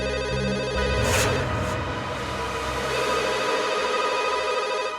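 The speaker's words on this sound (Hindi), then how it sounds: "इतनी रात को कौन फोन कर रहा है?" A telephone rings late at night in a dramatic indoor scene, its repeated electronic ring sounding steadily and fairly loud over a low background score.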